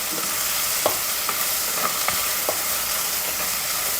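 Onions and green chilies frying in a pan for a prawn curry, a steady loud sizzle broken by a few sharp clinks and scrapes of stirring, with no talk.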